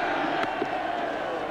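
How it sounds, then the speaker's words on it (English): A cricket crowd roars at Eden Park during a 1992 World Cup match between New Zealand and South Africa, a brief, steady wash of distant cheering. "The crowd roaring"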